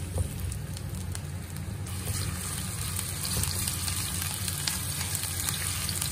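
Ginger sizzles and crackles in a hot pan at the start of a chicken stir-fry, a steady close frying hiss with small pops and occasional utensil stirring, no talk.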